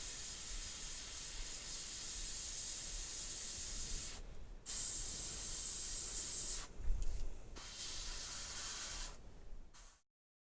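An airbrush sprays paint onto a painted miniature, giving a close, steady hiss in long passes broken by a few brief pauses before it cuts off.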